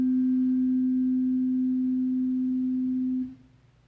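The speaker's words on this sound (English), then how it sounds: "Okay, I've got this tuning fork." A middle C tuning fork ringing at 256 hertz gives a pure, steady, loud tone that holds evenly for about three seconds, then is cut short and fades out, with no talking.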